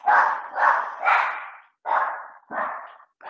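A dog barks nearby in a quick series of about six loud, rough barks, three in fast succession and then three more after a short pause.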